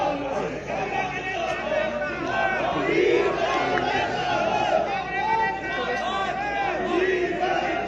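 A large crowd at a stadium political rally, with the chief minister present, fills the air with continuous loud hubbub, shouting and cheering, with a loudspeaker voice blending into the noise.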